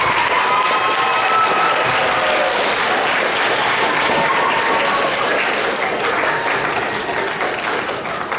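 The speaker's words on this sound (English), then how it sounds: "help me give your parents a huge round of applause this evening" A concert audience of students and parents gives a sustained, full round of applause after a spring symphonic winds band concert, steady dense clapping with some crowd noise throughout.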